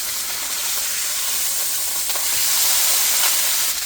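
Beef chuck roast searing in a hot pan gives off a loud, steady hiss and sizzle, close and continuous, swelling slightly toward the end with no voices.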